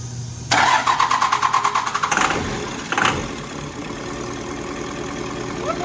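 A flatbed truck engine cranks with a rapid chugging starter rhythm for about a second and a half, catches with a brief rev, then settles into a low, rough idle that keeps running steadily.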